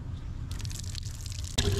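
Water runs slowly from a kitchen faucet in a steady, close trickle, with a brief clatter near the end; no one speaks.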